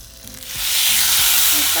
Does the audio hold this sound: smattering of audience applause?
no